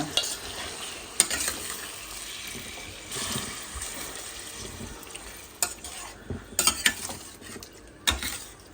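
Chicken curry stirred and mixed in a pan, with scraping utensil strokes, soft clinks and a low sizzle running throughout, a few sharper knocks near the end; no talking.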